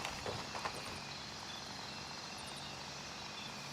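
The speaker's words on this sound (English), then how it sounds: "That's actually a third chopper landing, too." A helicopter comes in to land in the video game Gray Zone Warfare, giving off a steady, droning rotor and engine rumble at moderate distance. A few faint clicks and knocks sit on top of the drone.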